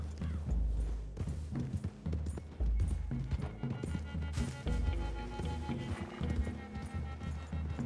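Several horses gallop through trees in the video game Red Dead Redemption 2, a steady rapid drumming of hooves up close with a brief whinny-like sound, continuous for several seconds without speech.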